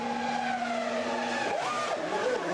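A McLaren Formula 1 car at a pit stop during the 2000 season, a high, whining engine note that holds steady, then sweeps sharply up and down, heard moderately loud without talk.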